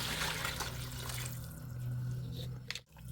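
Water is poured into a pan of fried vegetables with black pepper, producing a soft, steady running and splashing that trails off near the end, quiet and close, with no speech.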